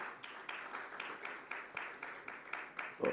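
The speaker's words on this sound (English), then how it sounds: "Please give Mr. Behl a big round of applause." Audience at a jury event applauding, a moderate, steady patter of clapping with soft rhythmic surges, heard from a slight distance and fairly faint, with no talking over it.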